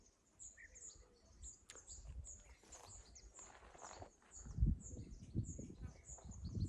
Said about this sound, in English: First thing you hear is the birds song in the background.